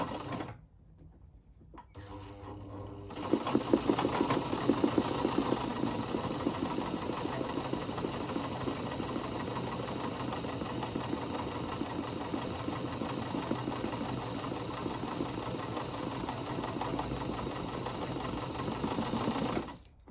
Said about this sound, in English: And then you should be able to do your darning or your freehand embroidery.